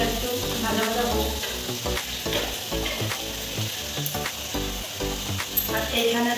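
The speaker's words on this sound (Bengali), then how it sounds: "আলুটা একটু ভাজা ভাজা হোক।" Potatoes frying in a pan in a home kitchen, giving a loud, continuous sizzle and crackle with occasional stirring scrapes throughout.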